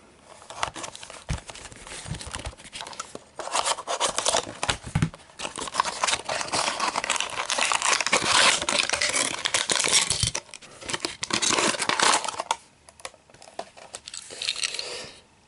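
Tape and packaging on the box of a generic Volvo fire emergency model car are cut open by hand, giving intermittent crinkling, tearing and soft scraping bursts at close range with brief pauses.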